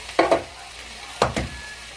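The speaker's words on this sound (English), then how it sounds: "crack a few eggs on top" Eggs are cracked into a pan of Poorman's Meal, a fry-up of potatoes and hot dogs, giving two pairs of close crisp taps and cracks over a faint sizzle.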